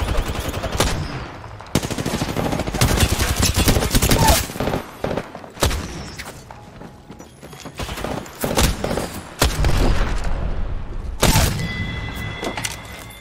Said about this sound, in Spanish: Atrás de mí me dispara otro güey